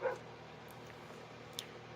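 A dog barking to be let out, heard as a faint short bark at the start and another brief one near the middle against a low steady background hum.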